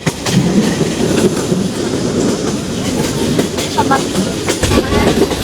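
The Joyantika Express from Dhaka to Sylhet runs past tea gardens toward Sreemangal, heard from inside as a steady rumble with rhythmic clickety-clack of wheels over rail joints and occasional sharper clanks.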